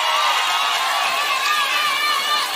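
A large crowd at a Kenya Kwanza women's meeting in Nyayo Stadium roars and cheers steadily, with shouts and whoops blending into a dense, continuous mass of noise.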